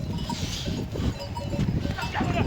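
A flock of sheep being herded near a riverside road, with scattered bleats and jingling bells over steady low rumble, and a person's voice faintly in the mix.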